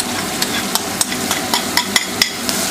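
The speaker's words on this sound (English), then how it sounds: "you just want to saute for 7 minutes" Four cloves of minced garlic and a medium yellow onion sauté in a pan for tomato sauce, making a loud, even hiss with regular sharp taps and scrapes of a utensil moving them around.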